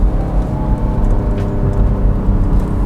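A 2023 Chevy Trailblazer LS with a 1.2-liter turbocharged engine merging into traffic, a loud, steady low engine drone with road rumble and a slight rise in revs, heard from inside the cabin.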